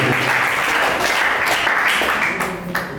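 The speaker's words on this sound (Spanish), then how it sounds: "aplausos por favor a nuestra primera intervención" Audience applause at a Peruvian secondary school debate, a steady wash of clapping filling a hall for about three seconds with faint background voices underneath.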